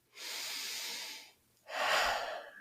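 A calm person takes a slow, deep breath, up close. A long airy inhale is followed by a short pause, then a fuller, stronger exhale, with no talking.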